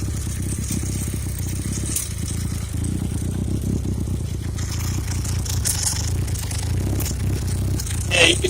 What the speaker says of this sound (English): you can hear it kind of cutting out and skipping a beat, almost a backfire, because this side is running super rich